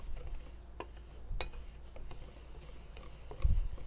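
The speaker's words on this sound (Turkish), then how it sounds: "Bunları da şöyle iyice karıştıralım." Spoon stirring flour, salt, yeast and sugar in a bowl: faint scraping and light clinks against the bowl, a few sharp ticks and a soft thud near the end, quiet and close.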